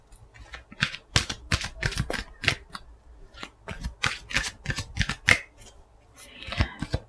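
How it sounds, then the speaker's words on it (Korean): Cards shuffled by hand close up, with rapid riffling bursts and flicks in an irregular rhythm, fairly crisp and loud, with no talking. "여러분을 위한 좋은 카드 좀 뽑아볼게요"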